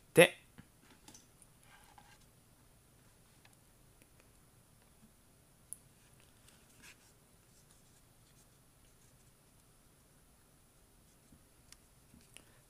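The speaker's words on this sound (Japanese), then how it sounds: "黒いペンでスマホのカメラを描きます。" Pens drawing on folded origami paper shaped like a Rotom Phone, faint scratchy pen strokes and light taps, close and quiet, with soft speech over parts of it.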